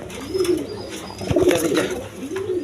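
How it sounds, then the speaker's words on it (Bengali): Young high-flying giribaz pigeons coo in close, repeated rolling calls, several swelling phrases over about three seconds with faint background noise. "এখানে এক পেয়ার বাচ্চা কবুতর আছে হাই ফেলিং গিরিবাস কবুতর"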